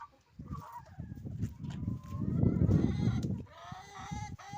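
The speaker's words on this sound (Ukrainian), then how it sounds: "Я знімаю зараз відео, щоб показати, як мої кури несуться." Hens in a backyard coop cluck and murmur close by in soft, irregular bursts while laying eggs, with a few higher calls rising over the low chatter.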